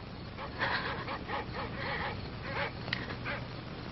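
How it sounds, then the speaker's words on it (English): Dogs bark somewhere out in the night darkness, a steady run of distant barks and yips over a noisy, muffled background, with faint voices mixed in. "Those dreadful dogs. They sound so terribly"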